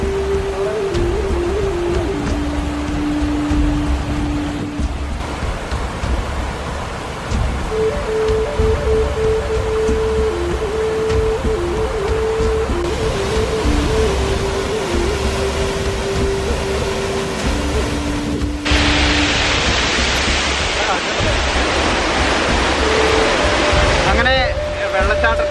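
A waterfall at Mamalakandam sends out a steady, loud wash of rushing water that fills the whole clip, with a brief shift in tone near the end and no clear speech over it.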